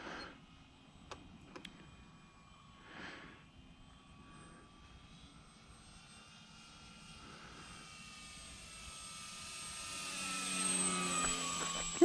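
A small fixed-wing airplane engine drones steadily in flight over a frozen lake toward evening, a low hum that swells gradually louder and brighter near the end.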